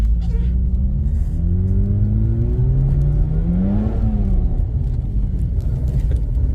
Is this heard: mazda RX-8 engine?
yes